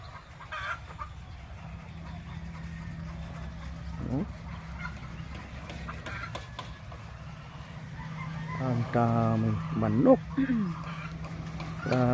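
A large poultry farm on Bantayan Island is full of chickens clucking, with a steady low hum throughout and louder bursts of clucking near the end, partly under people talking.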